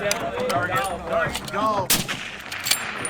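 Sniper rifle shot during military sniper school training, one loud crack near the two-second mark over a noisy background of talk, followed by a short decaying rumble.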